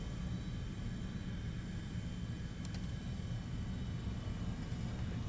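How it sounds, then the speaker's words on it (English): Steady, continuous rumbling drone of a large twin-engine jet ground attack plane in War Thunder, heard from inside the aircraft with no talk and no break in the noise. "It's a twin engine, looks fairly big, probably a ground attack plane of some sort."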